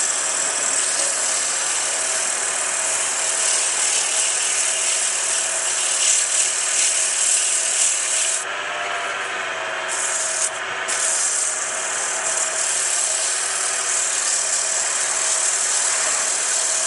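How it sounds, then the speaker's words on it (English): Wood lathe spinning in reverse while a napkin ring is sanded with 220-grit paper: a steady, close, continuous rubbing hiss over a low motor hum, with brief dips in the grinding around the middle. "This is 220 grit with the lathe running in reverse."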